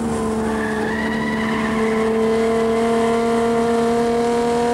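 Race cars at Snetterton in the 1985 Willhire 24-hour race braking hard into a corner, with a loud sustained tyre squeal over steady engine drone, close and continuous.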